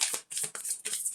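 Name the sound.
shuffling a deck of cards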